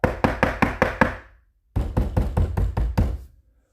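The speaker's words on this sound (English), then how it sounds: "Daisy went straight to the yellow house and knocked on the door" Two loud, close bursts of firm knocking on a door, six raps each in an even rhythm with a short pause between them, during a read-aloud of a Disney storybook.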